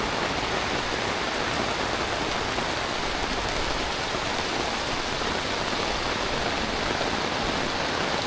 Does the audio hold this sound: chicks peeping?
no